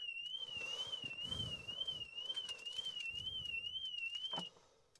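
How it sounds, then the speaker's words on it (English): Alarm of a Mercedes EQA 250 electric car warbles as a steady, rising-and-falling siren tone for about four seconds, then cuts off, with faint background noise underneath. "All right, that was the alarm."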